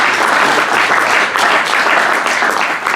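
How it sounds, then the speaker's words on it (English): Audience at a memorial gathering breaks into loud, sustained applause, dense steady clapping filling the whole few seconds without pause. "So give this man a huge round of applause."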